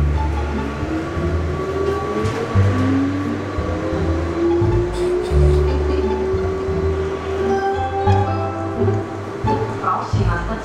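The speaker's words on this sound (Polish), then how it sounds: "jechaliście kiedyś tak metrem?" Metro train ride through Turin, with a steady close rumble of wheels and carriage, a rising and falling electric motor whine, and occasional rattles and clicks over about ten seconds.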